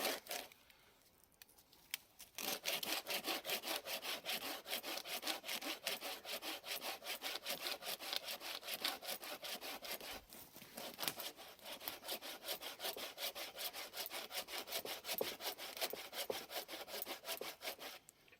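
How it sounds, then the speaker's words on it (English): A Laplander folding saw cuts through wood during bushcraft shelter building in the woods, producing a rapid, even back-and-forth rasping rhythm heard close up, with a couple of brief pauses between strokes. "So I'm just using the Laplander here, and again, you don't need big saws for doing this."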